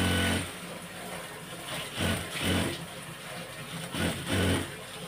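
Sewing machine stitching a round neckline, running in short motor bursts with pauses between them, a close whirring hum that rises and falls several times.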